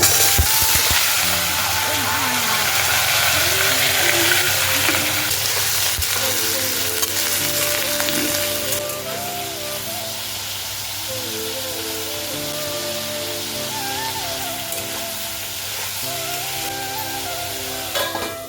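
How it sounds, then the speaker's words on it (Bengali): Cumin seeds and then potatoes fry in hot oil for Bengali aloo bhaja, a loud continuous sizzle that eases slightly partway through, with a voice talking beneath it. "তেলটা গরম হয়ে গেছে এখন এর মধ্যে দিয়ে দেব জিরে হয়ে গেল জিরে এবার দিয়ে দেব আলু"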